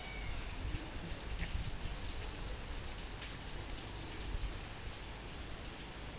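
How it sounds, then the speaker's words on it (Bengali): Light drizzle falls steadily on an orchard after a storm, a soft continuous patter of raindrops close by with no voices. "অল্প অল্প করে গুড়ি গুড়ি বৃষ্টি পড়ছে।"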